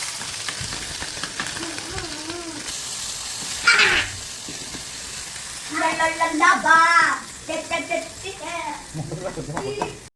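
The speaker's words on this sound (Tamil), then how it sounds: "பொரிக்க போகிறோம்" Steady oily sizzling of small fish frying, with bursts of spattering and a voice talking intermittently over the crackle.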